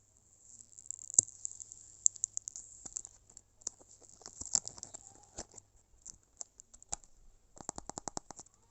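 Faint, close crackling and ticking as cured resin peels away from a silicone mold, scattered sharp clicks and soft patter with a brief rapid burst near the end.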